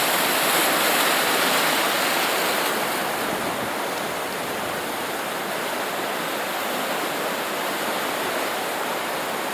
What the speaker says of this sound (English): just letting the water wash right through